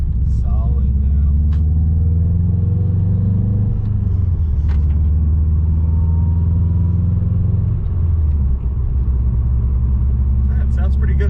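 A 2006 Subaru WRX with a JDM EJ205 engine and cat-back exhaust idles and rumbles deeply, its pitch shifting slightly a couple of times, loud and close throughout.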